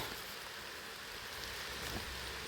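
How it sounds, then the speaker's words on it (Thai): Steady rain falling in a wet-season outdoor setting while termite mushrooms are gathered, a continuous hiss of moderate loudness with no talk. "เออฝนตก"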